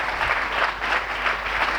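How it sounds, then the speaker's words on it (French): Church congregation applauding loudly and steadily during a sermon, a dense wash of clapping that holds for the whole stretch with no pauses. "Acclamons très fort pour les voix."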